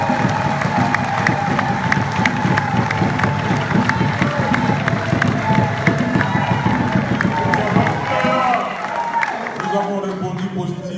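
A press conference audience in Brussels cheers and applauds, with dense clapping, whoops and crowd noise sustained for about eight seconds before fading to a quieter murmur.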